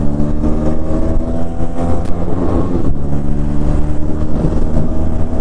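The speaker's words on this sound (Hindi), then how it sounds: "इसके इंजन में से ना गाइस थोड़ा सा इशू आ रहा है भाई" Vehicle engine with a fault runs steadily at idle and light revs, a loud continuous drone with harmonic hum and a slight rough wobble, heard alone without talk.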